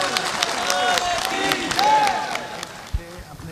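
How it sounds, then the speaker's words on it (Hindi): Audience clapping at a Hindu kirtan gathering at Bageshwar Dham, a dense, steady patter of many hands mixed with crowd babble and shouting voices, with a sharp thump near the end. "फिर से ताली बजाओ।"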